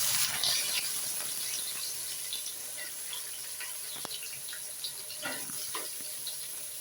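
Whole spices sizzle in hot oil for a prawn biryani before onions go in, making a continuous frying hiss with scattered light crackles and pops. The sound is steady and fairly close, with no one speaking.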